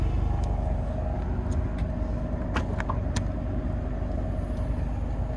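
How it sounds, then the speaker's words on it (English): Exhaust of a 2025 Hyundai Sonata N Line 2.5T with quad tips, a steady low rumble from close by with a few faint clicks on top and no talking. "But quad tip exhaust, gotta love that. Absolutely great choice there for that design. Nice sound to it as well."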